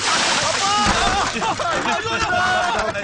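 Tea splashed onto a man at a tea stall in a slapstick comedy scene: a wet splatter and sloshing burst mixed with loud, agitated shouting voices throughout.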